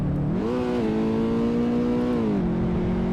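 A car engine revs hard near its redline in a Nürburgring racing video game, driving the slowest car. The steady, loud drone climbs in pitch, holds, then dips briefly as it sustains throughout.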